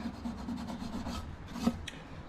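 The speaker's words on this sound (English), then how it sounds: "So we're just giving her a real quick scuff" A glossy engine block from a 390 engine is scuffed by hand before painting, a quiet, steady rasping rub made of repeated short strokes and one slightly sharper scrape near the end. No voices are heard.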